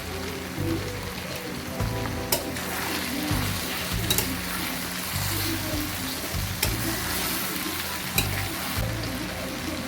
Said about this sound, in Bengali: রসুনটাও মাংসের সঙ্গে তাহলে ভাজা ভাজা হয়ে যাবে।